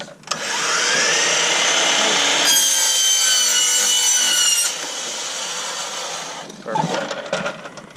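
A mitre saw set at 45 degrees cuts through an eavestrough, a loud sustained whining saw cut lasting several seconds, its pitch shifting midway, then winding down to quieter scraping and rattling at the end.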